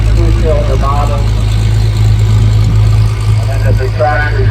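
A John Deere 45 two-cylinder engine runs on a tractor at a threshers harvest festival, a steady low idling rumble that continues throughout under someone talking.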